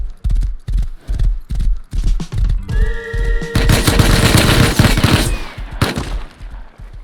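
Horse hooves clip-clop steadily in the survival game Rust, a loud regular gait with a brief neigh and a burst of gunfire mixed in midway before the hoofbeats resume.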